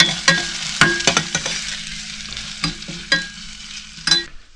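Garlic and ginger fry in a pan at a campsite in Mount Abu, with a close, continuous sizzle broken by sharp, irregular clatters of stirring.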